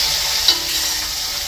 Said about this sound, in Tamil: அடுத்த வந்து நாங்கள் இந்த மீன் பொரிக்கிறோம்